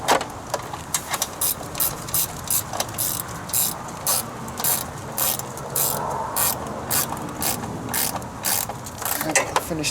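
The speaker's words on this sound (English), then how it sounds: "I'll finish tightening that up in a minute." Rapid ratchet clicking while bolts are tightened on a Briggs & Stratton Intek carburetor cover, repeated bursts of close mechanical ratcheting with brief pauses between strokes.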